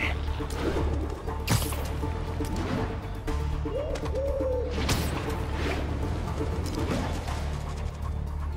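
A pigeon coos softly in the Marvel's Spider-Man video game, with a few low gurgling calls over steady city ambience and scattered background noise.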